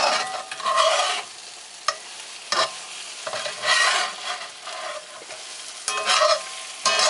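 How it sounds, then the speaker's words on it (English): Sausage and a flour tortilla sizzle in a cast iron skillet for breakfast burritos, a steady close frying hiss broken by repeated bursts of scraping and stirring, with no talk. "take this flour tortilla, lay it on my sausage to heat it up"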